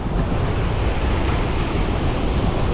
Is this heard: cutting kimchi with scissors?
no